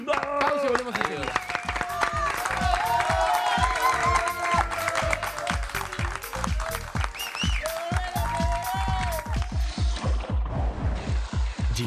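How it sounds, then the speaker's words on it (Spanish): Rhythmic audience clapping in a TV studio, sharp regular claps under lively voices and music, loud and close, tapering near the end. "Fuerte el aplauso para Facundo"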